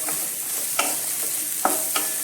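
Small shallots, ginger and halved garlic cloves fry in hot oil in a pan, a steady close sizzle broken by a few sharp scrapes and taps as they are stirred.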